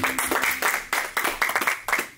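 A church congregation claps in a sparse, uneven rhythm of separate hand claps, moderately close, with no voices over it.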